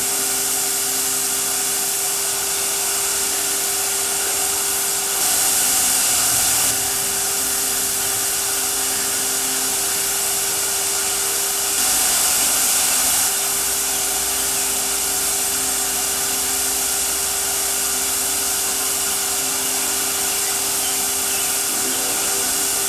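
A Harbor Freight Chicago Electric HVLP spray gun with a 1.8 mm tip sprays gray primer mixed with hardener and reducer, producing a steady loud airy hiss with a constant tonal hum, broken by a couple of brief shifts in pitch.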